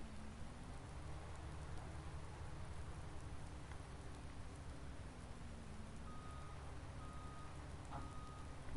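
Steady rain hissing down in Farming Simulator 19 on a Sussex farm, a continuous broadband wash with a low machinery hum beneath and a few faint beeps near the end.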